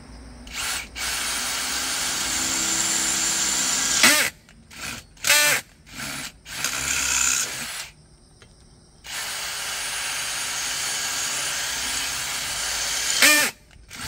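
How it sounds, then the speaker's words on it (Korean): A power drill drilling a screw hole in a car trunk shelf during car audio amplifier installation, whirring in several bursts, some long and steady, some short stop-start pulses, close by, with quiet gaps between runs. "그러면 여기에 이제 구멍을 내야 되니까"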